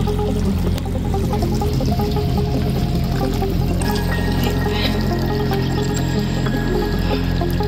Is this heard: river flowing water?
yes